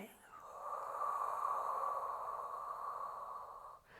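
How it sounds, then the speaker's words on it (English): A long, steady breath during a Pilates pelvic floor exercise, heard close and soft as an airy, sustained exhale lasting a few seconds. "So inhaling. And exhaling."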